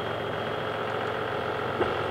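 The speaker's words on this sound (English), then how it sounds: "obin, isn't that your brother John over on the tractor" A farm tractor engine runs steadily at idle nearby, a continuous loud mechanical rumble with a slight knocking texture throughout.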